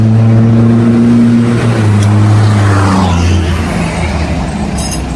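A powerful vehicle engine revs loudly and close by, a strong low drone that rises in pitch and then settles into a rougher roar. A faint high squeal comes near the end, and no one speaks.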